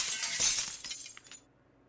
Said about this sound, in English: Glass shattering is one of the few things that really gets me.